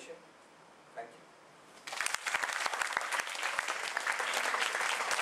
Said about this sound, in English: A big round of applause to Matthias.